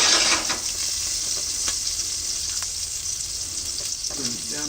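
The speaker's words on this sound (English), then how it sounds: "I'm going to start off by dropping in half a cube of butter" Half a cube of butter sizzles and fries in a hot pan over a flame, a steady close crackling hiss with scattered pops and a faint clink near the end.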